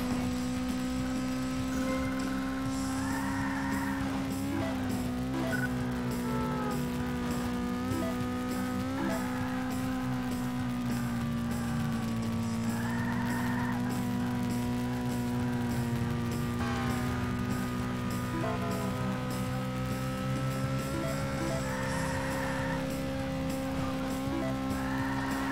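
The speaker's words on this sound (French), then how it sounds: "J'aime bien le bruit du moteur" A sustained car engine drone in the video game Burnout 2: Point of Impact on PS2, with shifting pitch that rises and dips repeatedly over a long stretch, steady and moderately loud, with no voices.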